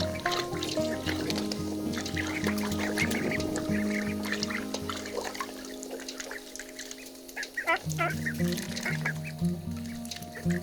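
Cayuga ducks, young birds around a month old, honking and quacking in a loud, steady run of calls with a brief lull midway before the calls pick up again.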